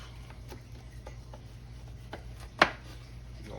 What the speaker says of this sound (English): I'm gonna cut these little side pieces off just like that